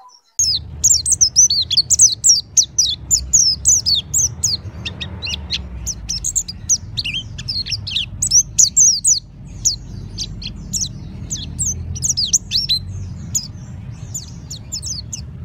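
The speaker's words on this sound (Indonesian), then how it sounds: "itu Montanus atau Monty. Jadi Monty itu suaranya seperti tadi, khas dia" Bright, rapid song of a Montanus white-eye with high twittering trills and chirps, continuous and close, over a low rumbling background.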